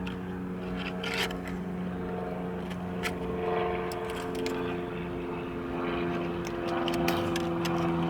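Steady low rumble inside a moving car, a constant droning hum with faint road noise and occasional light clicks, continuous for several seconds with no one speaking.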